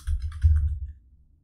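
Short burst of soft keystrokes on a computer keyboard, a quick run of quiet clicks lasting under a second, close and isolated with no voices.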